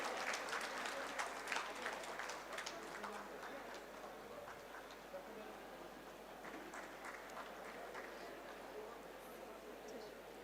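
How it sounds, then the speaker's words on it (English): Audience applause for medal winners at a university convocation, a steady wash of hand-claps at moderate distance that fades slightly toward the end. "let's show our appreciation with a big round of applause to our medal winners"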